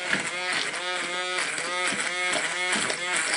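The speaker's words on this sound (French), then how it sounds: "On va juste mixer un petit coup." A food processor or blender runs in a short pulse, mixing ingredients with a buzzing, whirring motor and a rhythmic churning pattern, close up. Speech is faintly mixed in.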